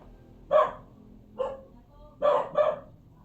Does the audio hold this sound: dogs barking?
yes